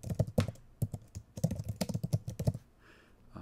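Quick, close key presses on a computer keyboard as numbers are typed in a short uneven burst, fairly quiet with no talking.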